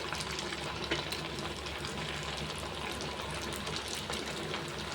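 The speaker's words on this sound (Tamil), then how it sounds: "மிதமான தீயில் நம்ம வறுக்கிறோம், பொரிக்கிறோம்" Steady sizzling and bubbling of quail egg noodle balls deep frying in hot oil over medium heat, a constant crackling hiss with no voices.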